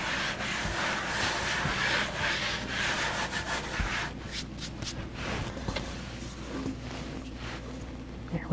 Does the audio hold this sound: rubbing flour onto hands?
yes